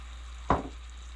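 Pork and celtuce frying in a pan are stirred once, giving a single short scraping, sizzling burst against a quiet background.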